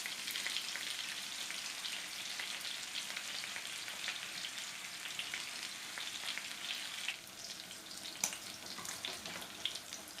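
Beef steak frying in a pan with chopped garlic, giving a steady, dense sizzle with small crackles and a few sharper pops near the end; close and continuous, with no voices.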